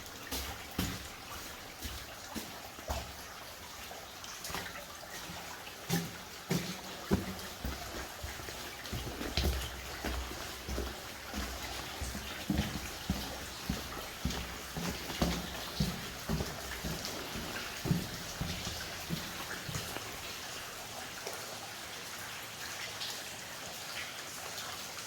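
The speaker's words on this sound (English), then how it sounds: "It's just a river in here." An underground river runs through the back of a cave, a continuous rushing wash of water with irregular splashes and drips scattered across it, steady and fairly close, with no voices.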